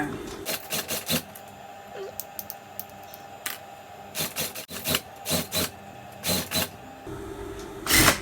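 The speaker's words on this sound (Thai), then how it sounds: "เย็บมาถึงเส้นนี้ค่ะที่เรามาร์กไว้" A sewing machine runs in short, repeated bursts while stitching the side seam of an altered shirt. The whirring runs come in quick, nearby pulses with pauses between them, and someone speaks quietly in the background.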